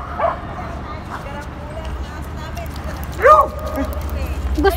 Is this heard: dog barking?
yes